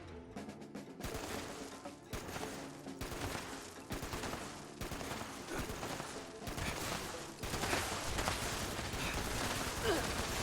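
Explosive weapon fire in Fallout 76, a dense run of repeated shots and blasts over ten seconds, continuous and fairly loud, building into heavier booms near the end.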